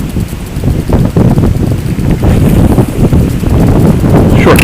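Strong wind buffeting the microphone on a shoreline while fishing with a live shrimp rig for mullet, a loud, continuous, gusty roar that rises and falls.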